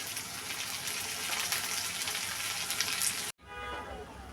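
Chopped onion, tomato and ginger-garlic paste fry for chicken curry, making a dense, bright sizzle that runs steadily for about three seconds before cutting off abruptly to a softer, quieter hiss.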